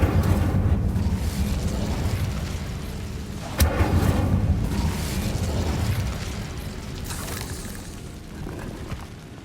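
The Incendio fire spell in Hogwarts Legacy erupts as a loud whooshing burst with a sharp crack midway, then a roaring rumble that slowly fades.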